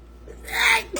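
A single sudden sneeze bursts out close by, short and sharp after a quiet breath.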